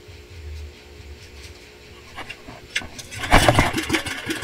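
A small boat engine, likely an outboard on a squid-jigging outing, sputters and catches after a failed start, rising into a loud, rough burst of running noise near the end.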